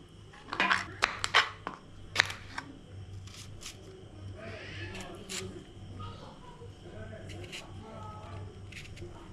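Whole okra being slit with a knife for a tamarind curry, several sharp crisp cuts and clicks close by early on, then softer scattered handling sounds, with someone talking throughout.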